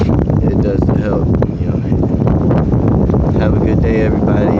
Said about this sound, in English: It's getting really windy out here in Sioux City.